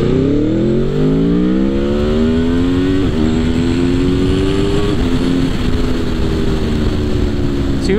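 A 2021 Aprilia Tuono V4 Factory motorcycle revs hard and accelerates close by, its loud engine note climbing steadily through the gears with brief shift dips, and no voices over it.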